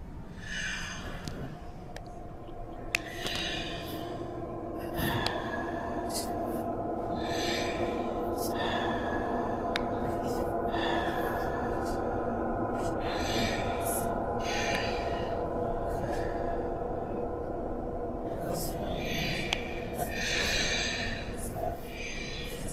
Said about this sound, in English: So it's a little bit heavy breathing.